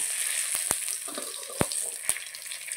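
Cumin seeds and two bay leaves dropped into hot oil left from frying potatoes for a chicken curry, giving a bright, steady sizzle with a few sharp crackles and pops standing out.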